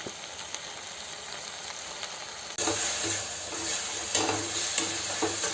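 Tomatoes with rock salt fry in a pan, a continuous close sizzle and hiss with occasional stirring scrapes, growing louder partway through, with no talking.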